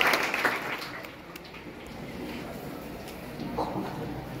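An audience claps through a spiritual discourse, a soft, steady patter of applause that swells at the start and again near the end, heard from a distance in a large gathering.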